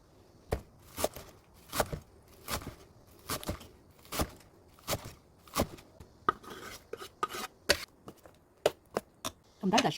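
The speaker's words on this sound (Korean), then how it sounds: "실파를 송송 썰어 넣으면 됩니다" A knife chops spring onions on a cutting board for a Korean holiday side dish, a steady run of sharp, close knocks in an uneven rhythm, with no talk over them.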